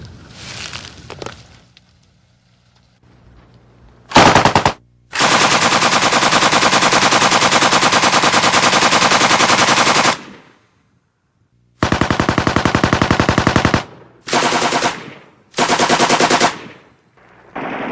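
An M60 machine gun chambered in 7.62 NATO fires close and loud in long sustained bursts, then several shorter bursts with brief silences between them.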